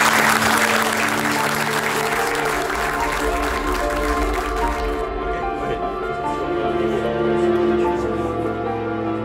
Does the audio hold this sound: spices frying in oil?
no